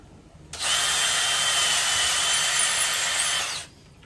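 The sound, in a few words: drill widening holes in oak wood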